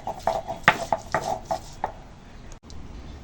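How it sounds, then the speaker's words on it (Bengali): Ginger and garlic being ground into a paste by hand, a series of sharp scraping knocks in an uneven rhythm, close and fairly loud, then a short quiet stretch. "আদা রসুনটা বেটে নিই।"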